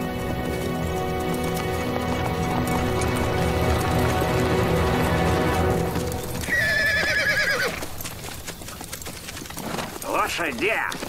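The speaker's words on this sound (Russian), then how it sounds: "Лошади!" Horses whinny and neigh loudly over a busy scene of shouting and music, with hooves clopping nearby and a sharp high neigh rising near the end.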